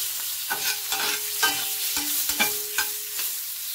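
Onions fry in a pan over medium heat, a steady hiss of sizzling broken by repeated scraping and clinking stirs at an irregular rhythm, close and clear with no talking.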